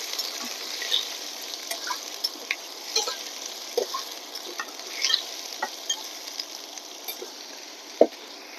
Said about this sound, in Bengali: এবার গাজর দিয়ে দিলাম। এগুলো আমি একটু হালকা করে ভেজে নিব।